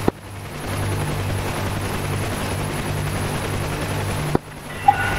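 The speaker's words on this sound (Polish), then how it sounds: "przed startem będę obracał śmigłowiec pod wiatr" Steady, loud rotor and turbine drone of a UH-1H Huey helicopter in DCS World, running continuously with a couple of sharp clicks and a brief drop near the end.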